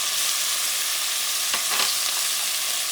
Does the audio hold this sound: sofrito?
yes